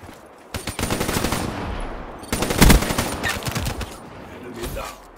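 An HVK-30 assault rifle in Black Ops 3 fires two loud, rapid automatic bursts, each a quick stream of close shots separated by a short pause.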